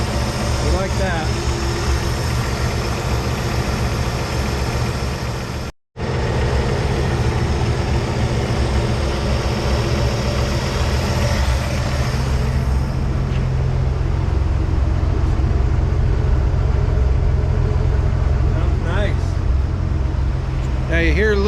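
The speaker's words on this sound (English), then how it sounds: "Now you hear a little bit of a spitter sputter in there." A Ford 300 inline-six with a Carter YFA carburetor and no air cleaner idles steadily and close, a continuous low rumble with a slight intermittent sputter and a brief dropout partway through.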